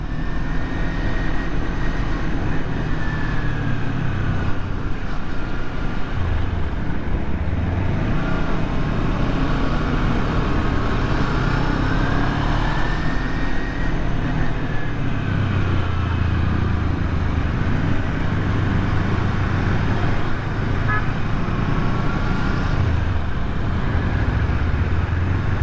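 A Kawasaki Ninja Z250 motorcycle rides through the night, its engine drone loud and constant with rising and falling pitch sweeps as the gears shift up and down, wind rush underneath and no voices.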